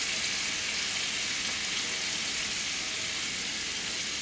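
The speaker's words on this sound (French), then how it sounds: "la sauce, je vais déglacer au vin blanc" A hot pan sizzles steadily as white wine hits it to deglaze, with pan juices and roast stock in the mix, a loud, even frying hiss that fills the whole moment without pause.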